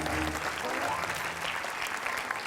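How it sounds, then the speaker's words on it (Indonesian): Audience applause from a studio crowd at a television comedy talk show, a dense continuous clapping that stays loud and fairly even for a couple of seconds, with faint voices mixed in. "Tepuk tangan, tepuk tangan."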